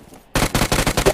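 Rapid automatic gunfire on Erangel in PUBG, a loud close burst of about five quick shots after a brief quiet start.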